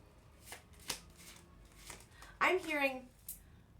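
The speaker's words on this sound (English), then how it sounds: "I do want to pull like 3 tarot cards on this" Tarot cards being shuffled by hand, soft close riffling bursts with a few light taps, quiet and alone.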